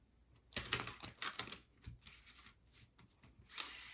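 Quiet, close crisp riffling of tarot cards being shuffled in several quick bursts, soft and papery, with no talking.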